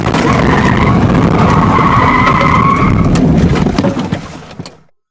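A police car collides with an oncoming vehicle that crossed the median, with a loud continuous rush of skidding, scraping and crunching impact noise in dashcam footage, breaking up and then cutting off into silence.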